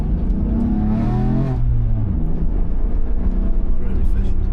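A BMW F82 M4 accelerates hard on the Curborough sprint course, its engine revving up loudly and pulling strongly in a steady rise while people talk inside the car over the noise.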